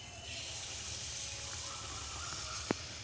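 Pitha dropped into hot oil in a wok, with a continuous hissing sizzle and a single sharp clink near the end, close by with no talk.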